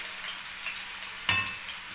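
Cumin seeds dropped into hot oil for an aloo masala curry crackle and sizzle, a sudden louder burst of frying rising over the steady hiss of the pan, close and moderately loud with no voices.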